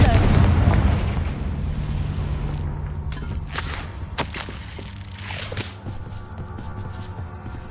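Confringo blasting spell in Hogwarts Legacy: a heavy, loud blast at the start rumbles and decays, followed by scattered crackling and debris-like pops.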